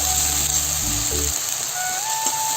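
Ginger and garlic paste fries in a pan with a steady, close sizzle throughout, alone without talk, while a low rumble fades out partway through.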